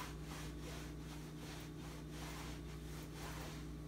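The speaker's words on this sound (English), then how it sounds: "that was the sound of my sock just rubbing my pant leg" Through an ultrasonic leak detector, a sock rubbing against a pant leg from about four feet away comes out as a rhythmic, raspy swishing like slow sawing. It sits over a steady electronic hum, faint and continuous, with no talking.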